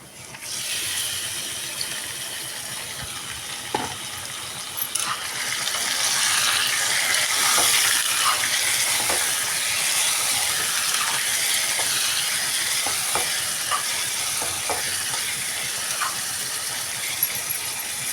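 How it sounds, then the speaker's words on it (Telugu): Chicken pieces hit a pan of oil with two reddish-browned onions for a village-style chicken fry, and a steady loud sizzle builds up and continues, with occasional clinks of a spoon. "రెండు ఉల్లిపాయలు అయితే ఎర్రగా అయితే వేగిపోయినాయి. అయితే చికెన్ అయితే వేసుకుంటున్నాం."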